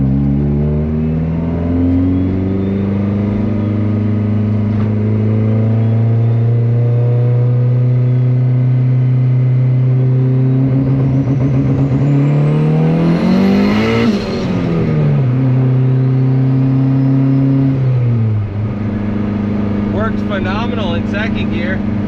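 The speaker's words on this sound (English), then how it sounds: "But to make it pop and bang and build boost and stuff, we're gonna try pulling some more timing here." Turbocharged Honda Civic engine tuned with anti-lag, revving loudly up and down through sustained rising and falling tones, with a peak around the middle and crackling toward the end.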